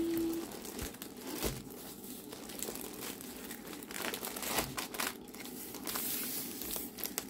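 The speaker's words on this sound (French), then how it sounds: "la toile est enroulée autour des diamants. Donc, je vais juste la dérouler." Paper-thin diamond painting canvas unrolls from around its packaged diamonds with soft, close crinkling and rustling, interrupted by a few sharper crackles.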